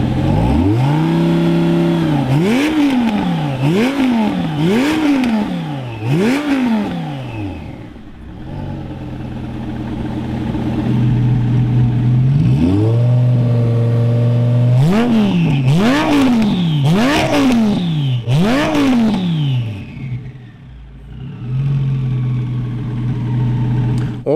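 Revs from a twin-turbo Lamborghini Gallardo routed through the muffler: two bursts of repeated rising and falling revs, loud and close. Between them the engine settles into a steady idle.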